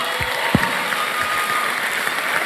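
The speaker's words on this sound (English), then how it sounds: "I thought you would clap." An audience at a business masterclass announcement claps together in a continuous, dense wash of applause, fairly loud and even, with a couple of sharper low thumps early on.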